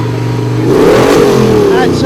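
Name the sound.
modified Ford tractor with Ford V8 engine revving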